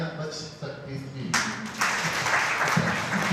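An audience at a Hindi-language religious talk breaks into applause, starting with a speaking voice and then a sudden swell of clapping that continues steadily to the end with voices underneath.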